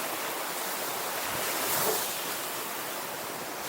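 Ocean surf washing onto a beach in Cuba in the early morning, a steady broad wash of breaking waves with a slight swell in the middle, wind-buffeted and continuous, with no voices.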